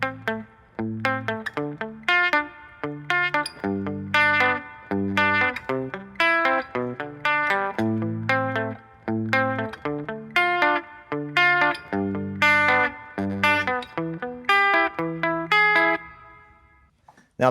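An effects-laden electric guitar plays the picked chords of a song, arpeggiated notes ringing with chorus and distortion in a steady repeating pattern, alone and moderately loud, ending abruptly.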